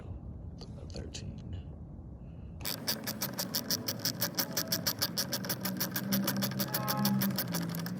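Ratchet with a 13mm socket working loose a fuel filter, a rapid, steady run of close clicks starting partway through after a quieter, rustling stretch.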